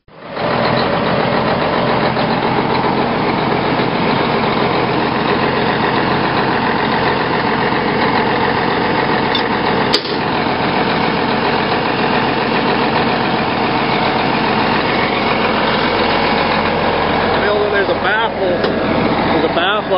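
The big ranch tractor's heavy diesel engine runs at a loud, steady idle close by, in north central Montana, a constant rumble that fills the whole span with only slight wavering near the end.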